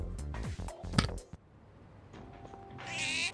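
A cat meows inside the video game Persona 3 Reload, with a few short calls heard alongside clicks and game sounds.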